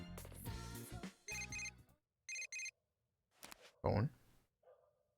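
A phone rings in the video game Persona 4 Golden, an electronic ringtone in several short bursts separated by pauses, with other brief game sound effects around it.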